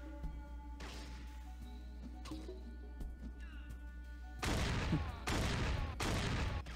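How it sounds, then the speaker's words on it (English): Enemies trade gunfire in Fallout 1, a burst of several loud, rapid shots in close succession after a quieter stretch of low game ambience and faint noises. "They'll shoot each other in the back."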